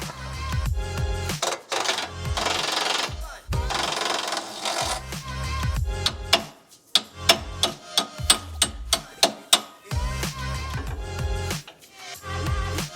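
A power tool works bumper bolts loose during an Addictive Desert Designs Stealth Fighter bumper install, giving rapid ratcheting, buzzing bursts and a row of sharp clanks and knocks, close and fairly loud.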